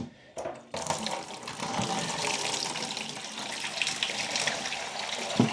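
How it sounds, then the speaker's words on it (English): Old beekeeping wash water, carrying honey and propolis residue, pours steadily into a bucket with a continuous splashing rush that starts abruptly and runs on without voices. "I just simply drain it into the bucket."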